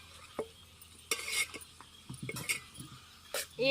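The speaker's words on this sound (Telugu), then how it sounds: "మళ్ళీ అడగంటకుండా కలుపుకోవాలి ఇట్లా కలపాలి" A tomato curry is stirred in a pot over a village wood-fired stove, with scattered close scrapes and metallic clinks of a spoon against the vessel, soft and irregular over a faint background.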